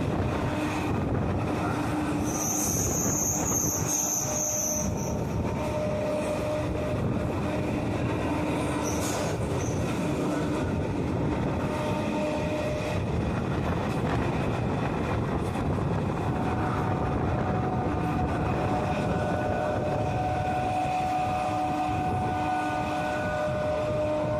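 A Kolkata suburban fast local train bound for Barrackpore runs at speed, a steady loud rumble of wheels on track with brief high squeals and rattling, continuous throughout.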